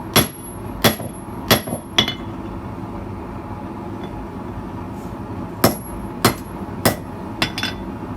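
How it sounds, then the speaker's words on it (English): Sharp metallic hammer blows strike a steel slot punch to flatten it, four quick ringing hits, a pause, then another run of about four or five close, crisp strikes in a quiet workshop. "Here with the slot punch, I'm hitting it, flattening it out."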